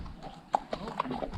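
Horse hooves clip-clop at a walking pace during a sunset ride in Cappadocia, Turkey, a few distinct close knocks spaced unevenly over a soft outdoor background.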